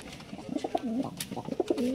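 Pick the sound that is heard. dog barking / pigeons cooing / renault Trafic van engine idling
pigeons cooing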